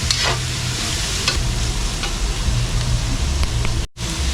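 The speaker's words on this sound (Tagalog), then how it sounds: "igigisa muna natin" Native chicken sautés in its own rendered fat without added oil, giving a steady close sizzle with occasional scraping and stirring sounds throughout.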